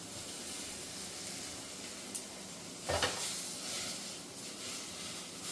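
Washed, pre-roasted dal with ajwain and turmeric goes into a pot of Bengali khichdi and is stirred, giving a soft steady sizzle and hiss with a brief scraping stir in the middle.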